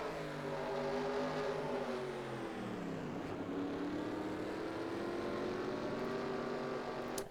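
Onboard a stock race car at Richmond, the loud engine drone holding steady, dipping as the car slows into a corner and then climbing again as it powers out, alone with no talk.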